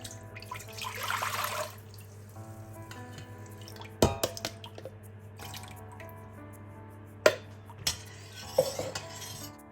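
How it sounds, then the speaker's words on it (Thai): Spoon stirring agar powder and water in a pot over a stove, quiet scraping and liquid swirls under a steady burner hum, with a few sharp clinks of metal against the pot. "คนไปแบบนี้นะคะ คนจนกว่าผงวุ้นจะละลาย"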